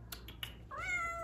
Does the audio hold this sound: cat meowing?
yes